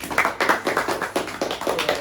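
A small group of people in a group counseling session claps together in quick, uneven rhythm, loud and close, with overlapping hand strikes running throughout.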